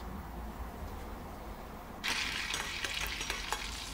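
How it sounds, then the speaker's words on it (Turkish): About two tablespoons of butter melt in a hot pan for a fan kebab, with a low steady hiss that abruptly swells into bright crackling sizzle halfway through, close and continuous without speech. "yaklaşık 2 yemek kaşığı kadar tereyağını koydum ve eritiyorum"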